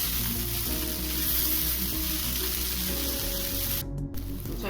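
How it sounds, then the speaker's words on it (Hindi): Kanda poha fries in a pan, a steady close hiss of sizzling that runs on evenly throughout, with faint low rumbling underneath and no voices. "थोड़ी देर अच्छे से और फ्राई करेंगे पोहा को"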